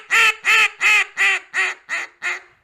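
A duck call blown as a greeting or hail call imitates a younger hen, giving seven loud, evenly spaced raspy quacks that trail off slightly in strength toward the end, close and alone.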